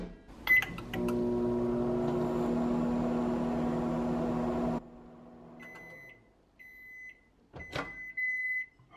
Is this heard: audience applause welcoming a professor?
no